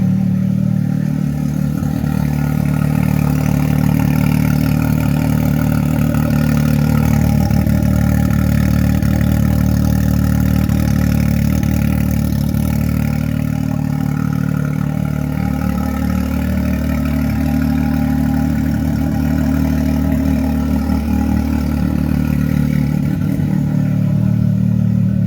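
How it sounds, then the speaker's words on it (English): A 2021 Can-Am X3 XRS Turbo RR idles with its open, turbo-back exhaust, giving a loud, steady, deep rumble with a faint clatter, close by and unbroken for the whole stretch, with nobody talking. "now when you flick the switch on, it's gonna get a little louder. This is where it's open exhaust,"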